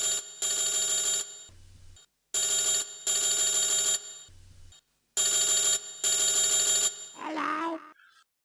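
A telephone rings in three long electronic double-trill bursts separated by short gaps, loud and close, followed by a brief murmur at the end.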